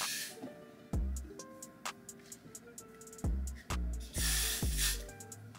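A spray can is used during a first-time wig installation, giving several short, loud hissing bursts separated by brief pauses, the last one longer and sustained.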